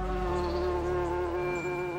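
Honeybees buzz in a steady, continuous drone that holds close and clear for the whole stretch, with no voices.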